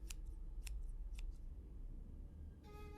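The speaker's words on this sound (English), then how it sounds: "Thankfully, somebody left a pair of scissors here, so it should be easy." Scissors snipping yarn in the video game Flower Girl: three crisp, close cuts spaced about half a second apart over a low background hum, with no talking.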